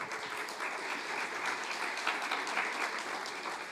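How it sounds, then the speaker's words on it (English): Audience applause at a Table Network event in July 2023 as two guests walk onto the stage, a dense, sustained clapping from a crowd that stays loud and steady from start to finish with no speech over it. "They're walking slow just to get more claps"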